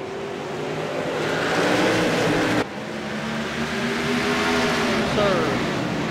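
Race car engines in a racing video game on the Martinsville oval, loud and continuous with a buzzing roar that swells and dips, briefly cutting out partway before resuming.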